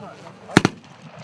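Two sharp, loud blasts in quick succession, close to the mic and sounding like a grenade exploding during a military training exercise, with quiet room noise before and after.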